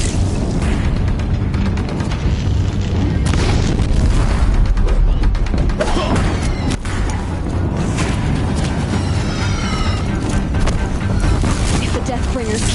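Deathbringer war machines firing in Horizon Zero Dawn, with loud, heavy booms and blasts crowding a dense, continuous roar of battle noise and crackling debris. A voice may be mixed faintly into the din.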